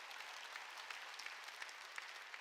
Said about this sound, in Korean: 깨달은 사람만 박수 치라고요.